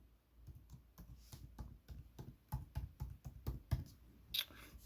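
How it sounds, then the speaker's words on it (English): Fingers type a Wi-Fi password on a computer keyboard while setting up a Raspberry Pi astrophotography server: a steady run of close, crisp key clicks with uneven rhythm and a few harder taps, no voices. "And I'm going to type in my Wi-Fi password here."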